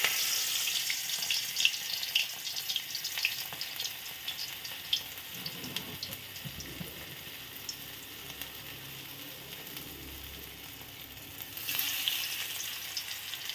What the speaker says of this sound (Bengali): তো এখন আমি এইটা তেলের মধ্যে দিয়ে দিব, দিয়ে আমি পকোড়া বানাবো।